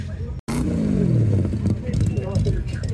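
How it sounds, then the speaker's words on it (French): Classic cars at the Tour Auto 2024 parc fermé in Carcassonne, with drum brakes squealing amid a loud, steady mix of engine and road noise, a falling tonal whine sweeping down after a brief dropout, and voices around. "on entend que c'est des freins à tambour"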